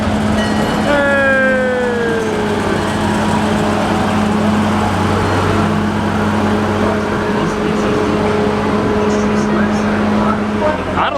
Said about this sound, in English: This train never ever comes rolling through here